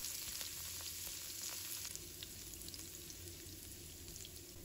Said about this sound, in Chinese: 再起锅倒入食用油，油热之后，把蒜末放入锅中，